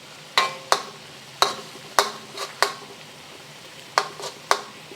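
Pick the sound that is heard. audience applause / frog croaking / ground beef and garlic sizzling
ground beef and garlic sizzling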